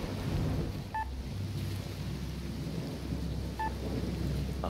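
Steady rain falls in S.T.A.L.K.E.R. Clear Sky, a dense continuous hiss of drops with low rumbling underneath and two brief faint electronic beeps.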